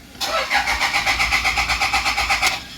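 A Toyota Fortuner engine cranks with a rapid, even chugging starter rhythm, loud and close, running steadily for over two seconds without clearly catching.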